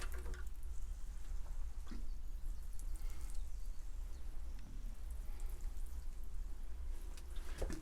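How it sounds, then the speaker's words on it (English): Water trickles from a can onto compost in an indoor seed tray ahead of pea sowing, a soft continuous patter with a few faint drips, quiet and close. "I'm going to water the compost."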